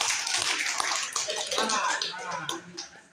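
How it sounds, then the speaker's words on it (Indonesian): Workplace training session audience clapping for the first group's presentation, a dense, fairly loud burst of many hands that tapers off over a few seconds, with voices mixed in. "Nah, tepuk tangan dong"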